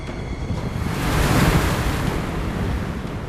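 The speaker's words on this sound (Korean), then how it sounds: "매섭게 몰아치는 파도." Rough sea surf breaks and churns around a fishing boat working off Ulleungdo in grey, stormy weather, a steady roaring wash with wind buffeting the microphone, swelling slightly in the middle.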